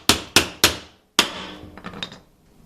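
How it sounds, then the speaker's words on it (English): Steel trim removal tool hammered in between a wall and wooden trim: three sharp metallic strikes in quick succession, a pause, then a fourth blow followed by fainter scraping and rattling as the blade works in. "you're just going to put the tool right between the wall and the trim and hammer it down in"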